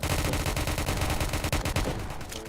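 Rapid automatic gunfire in the Roblox-style game Prison Life, a loud, dense burst of repeated shots rattling steadily for a couple of seconds with no talking.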